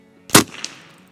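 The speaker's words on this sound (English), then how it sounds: "Let's shoot that can." A single loud gunshot aimed at a 2-inch steel target, a sharp close crack followed by a brief faint metallic ring from the hit a fraction of a second later.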